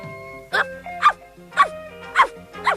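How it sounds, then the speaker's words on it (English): A puppy gives five short, high yips at a regular pace, close by, over a faint background tone. "Oh, Mum, a puppy!"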